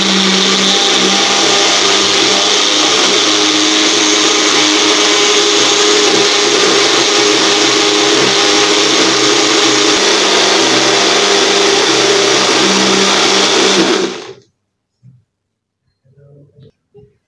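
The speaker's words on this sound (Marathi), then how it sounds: "आता हे आपल्याला ज्युसरला फिरवून घ्यायचं आहे," A mixer grinder blends raw mango drink ingredients, a loud steady whirring drone running for about fourteen seconds before cutting off abruptly, followed by a few faint knocks.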